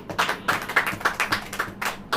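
An audience claps in a steady rhythmic beat, roughly ten sharp hand claps in quick succession, loud and close, with no talk over it.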